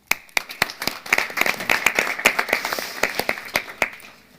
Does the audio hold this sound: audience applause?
yes